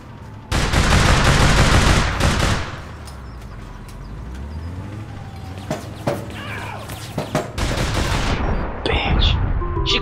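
Gunfire from the video game APB Reloaded: bursts of automatic shots, then scattered single and rapid shots with loud impacts, mixed with game sounds and occasional voices.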